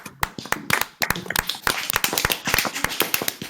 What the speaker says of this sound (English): Gentlemen, give yourselves a round of applause.